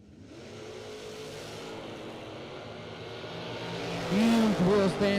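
A drag racing car launches off the line in a wheel stand at a racer appreciation event, its engine roar building steadily and then bursting into a loud, harsh revving wail near the end over a hum of crowd and track ambience.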